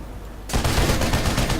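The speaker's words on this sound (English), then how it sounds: "You can see there are 4 guns, they are shooting" Vehicle-mounted guns in the game Planetside 2 open fire after a moment of near silence, a loud, dense, continuous burst of rapid automatic gunfire lasting to the end.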